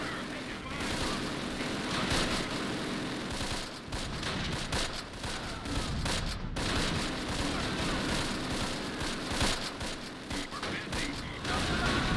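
MG42 machine gun fire in the WWII video game Close Combat, a continuous dense rattle of overlapping bursts with heavier thuds of mortar or artillery mixed in, loud throughout, with a voice talking over it.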